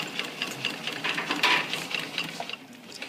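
A sewing machine stitches a zipper with a quick, rhythmic needle rattle at moderate volume and close range, steady for about three seconds with slight variations in pace.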